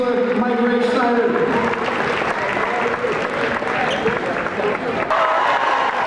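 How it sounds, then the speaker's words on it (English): A crowd in the stands at a Margaretta vs Genoa game applauds players receiving their trophies, a dense, continuous wash of clapping and crowd noise, with a commentator talking over it. "They're applauding their players for receiving their trophies"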